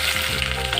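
Eggplant and potato pieces fry in about half a cup of hot oil, giving a close, steady and loud sizzle with no talking.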